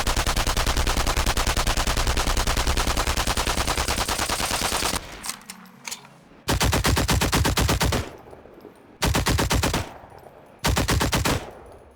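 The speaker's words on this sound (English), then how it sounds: "A couple of guns have this issue where the shots seem to cut off the previous one with automatic fire, one of which is the MP40," MP40 submachine gun fire in the WWII shooter Enemy Front: a long unbroken automatic burst, then three shorter bursts separated by near silence, loud and close.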